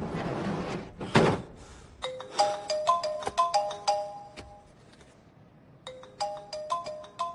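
A telephone rings with an electronic tone melody in two bursts, each made of bright, stepped beeping notes with a short pause between them, heard clearly after some brief rustling and thumps at the start.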